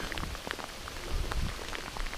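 Rain falls outdoors by a remote lake in Russia, a steady dense patter of drops striking nearby surfaces with occasional louder taps, continuous and fairly close with no voices.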